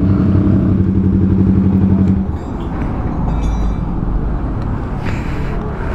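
A motorcycle engine idles with a loud, rhythmic rumble for two seconds, then fades into busy street clatter and traffic noise.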